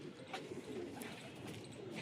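Wild pigeons cooing softly and continuously outdoors, low and faint, with no talking over them.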